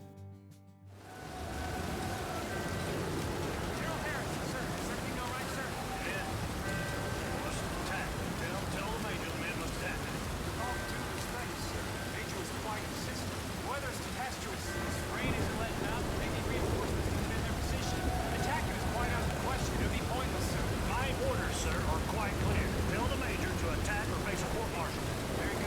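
Heavy thunderstorm rain pours steadily in Red Dead Redemption 2 on an old battlefield, a dense continuous wash that stays loud throughout, with faint ghostly murmuring voices woven underneath.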